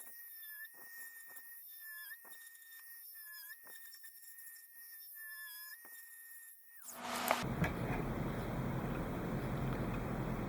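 A high-speed rotary tool set to 20,000 RPM with a 3mm bit whines steadily in repeated short runs while drilling a model starship nacelle, then gives way to a loud broadband rushing noise.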